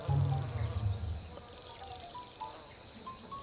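A fly buzzes loudly up close for about a second, then the drone fades into a quieter, faint hum with scattered faint chirps in the background.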